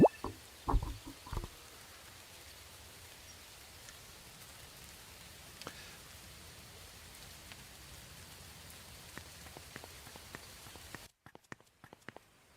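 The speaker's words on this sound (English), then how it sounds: "I heard rain." Steady soft rain in the game The Good Life pattering on a surface with scattered drips, faint and continuous, cutting off abruptly near the end.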